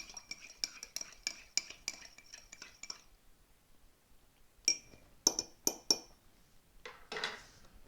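Metal spoon stirring Fire Dept. Coffee spirit-infused black cherry bourbon blend in a cup, a run of quick bright clinks against the rim, a pause, then a few sharper taps and a soft final scrape, close and clear.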